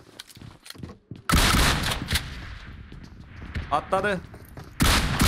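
Loud, dense bursts of automatic gunfire from a gun in a Turkish multiplayer shooter video game, one long volley near the start and another at the end, with someone speaking briefly between them.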